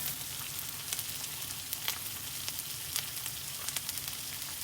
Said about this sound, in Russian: тут чисто жарить нужно.